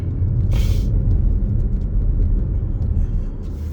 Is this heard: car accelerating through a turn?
yes